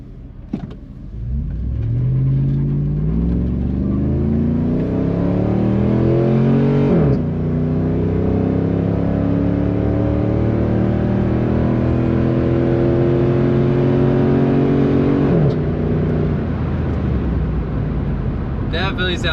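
Dodge Ram 1500 pickup with a 5.7L Hemi V8 and custom aluminum cold air intake accelerating hard, its loud, close engine note climbing steadily with a brief shift break midway, then easing off at the end.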